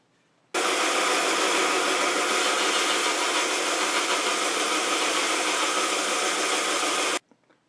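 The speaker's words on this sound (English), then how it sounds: "I'm going to see if I can use a bandsaw here and make 8 cuts" A bandsaw cuts material for a wavy-bladed dagger, starting abruptly and running in one loud, continuous, close roar for about seven seconds before stopping.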